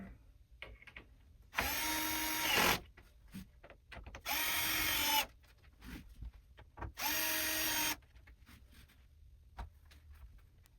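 A power tool tightens bolts during assembly of a bed frame, running in three loud, even bursts of about a second each, separated by quieter handling clicks and rustles.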